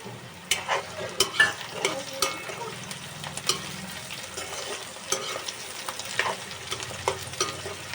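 Ginger, chilies, garlic and cashews fry in a pan for an Afghani egg curry, a soft continuous sizzle broken by repeated scraping and stirring clicks from a utensil.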